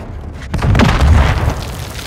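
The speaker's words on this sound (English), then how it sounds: "RPG, get down!" An RPG rocket detonates in Call of Duty: Modern Warfare II, a single loud deep boom that swells after a brief lead-in and rumbles out over a couple of seconds.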